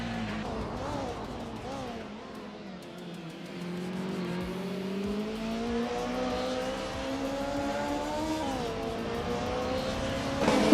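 Video game race cars overtake one another, engines revving and climbing in pitch as they pass, a sustained loud whine that builds toward the end.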